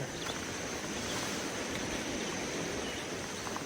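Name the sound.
Caddo River flowing in Norman, Arkansas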